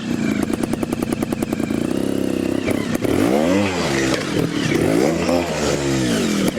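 A Sherco STF 2025 trials motorcycle riding over rocks, its engine revving up and down in close bursts with clattering knocks as it climbs.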